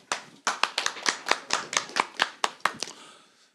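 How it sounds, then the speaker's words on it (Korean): Applause at a civic groups' press conference welcoming a speaker: about a dozen sharp, distinct hand claps in a quick, slightly uneven rhythm, close and clear, tapering off at the end with no voices. "힘찬 박수로 모시겠습니다"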